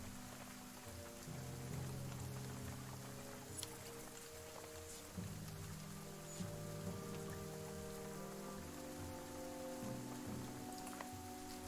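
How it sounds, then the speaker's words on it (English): Steady rain falls in the video game The Banner Saga 2, a dense, even patter running throughout beneath a low musical drone, with no voices. "The darkening sky lets loose its rain and soon fat drops of water turn the dirt path to cycling mud, slowing the caravan."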